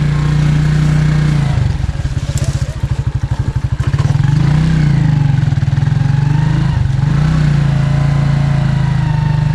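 A motorcycle engine runs steadily up close during an adventure ride, a low throbbing idle that roughens and surges briefly near the middle before settling back into an even drone.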